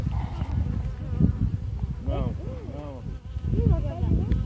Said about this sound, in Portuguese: Tanto de abelha.